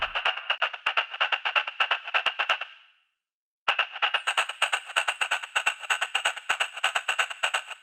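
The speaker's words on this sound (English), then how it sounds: "And now we could add a proper reverb." A synthesized sample with added equalizer and reverb plays as a fast, regular pulsing pattern that breaks off once, with a short reverb tail and a moment of silence, then resumes with a sustained high tone layered over it.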